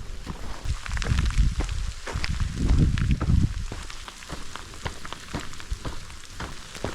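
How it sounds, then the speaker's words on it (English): Rain patters and crackles steadily on surfaces along a hiking trail at Pedernales Falls State Park in Texas, with heavier bursts of drops and irregular ticking close by. "Yep, rain's starting up again."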